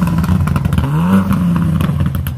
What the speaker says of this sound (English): Please rev it.